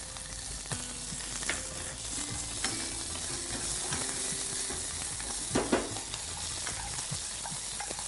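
Chopped green chilies fry in oil with mustard and curry leaves, making a steady sizzle under repeated scraping and clinking stirs, with a brief louder burst of crackle partway through.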